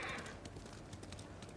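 Horse hooves clip-clop in the Ghost of Tsushima video game, a quick, even run of soft hoofbeats under a faint background hiss, with no talking.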